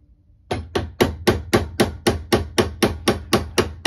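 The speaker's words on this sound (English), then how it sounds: "I'm just tapping towards me" A hammer taps steadily on a dowel to drift the sight on a Kimber K6s revolver, giving about a dozen light, evenly spaced, close metallic knocks with no talking.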